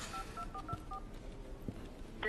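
A telephone keypad dialing a number: a quick run of short, faint electronic beeps in a steady rhythm, with no talking.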